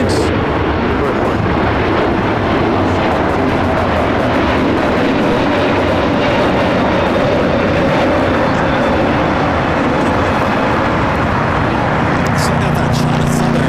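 A China Southern Boeing 777 takes off at LAX with a loud, steady jet engine roar that fills the whole span, sustained and powerful with a broad rumble.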